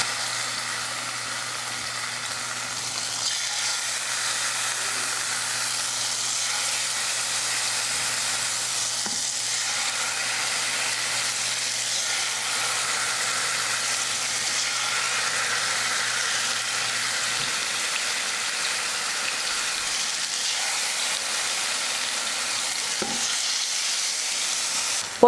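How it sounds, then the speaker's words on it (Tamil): Chicken tikka pieces fry steadily in a small amount of hot oil in a kadai, giving an even, continuous sizzle that stays close and level throughout, with no talking. "இப்போ ஒவ்வொரு துண்டாக எடுத்து கடாயில் வச்சிடலாம்."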